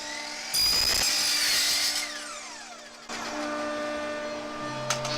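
A compound miter saw spins up with a high whine, slices a 45-degree angle cut through wood, then winds down and starts again, loud and close with a steady droning tone.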